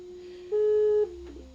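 A steady, pure electronic sine-wave tone from a breadboard synthesizer kit holds at one pitch for about half a second, louder than the low hum around it, then a brief wavering pitch follows.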